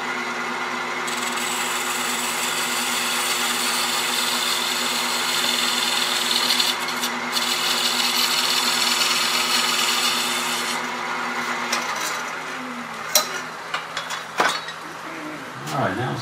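Pointed gouge cutting a wooden box on a spinning wood lathe, a steady rubbing, scraping hiss over the motor's constant hum, then the cut lightens into scattered scrapes and taps near the end; no talk.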